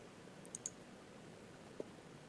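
Computer mouse clicking at a desk: a quick double click followed by one more soft click a moment later, faint and close against a quiet room hiss.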